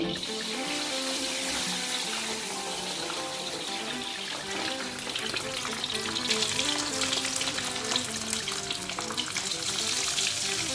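Fries crackle and bubble vigorously in a deep pan of hot oil, a dense, continuous sizzle that holds steady and grows slightly louder toward the end.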